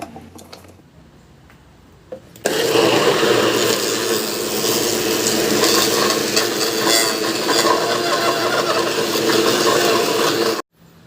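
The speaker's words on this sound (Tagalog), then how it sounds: "Ilagay ko lang sa blender at lagyan ko rin ng gata. At saka i-blend hanggang sa madurog lang yung mais." A blender crushes canned corn with coconut milk, running loud and steady for about eight seconds after a short quiet start, then cutting off abruptly.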